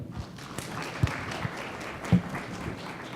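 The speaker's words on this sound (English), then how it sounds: "Can we give a round of applause for Dr. Mo?" Sparse clapping from a summit keynote audience, modest and uneven with a couple of louder single claps, thinning out as it goes.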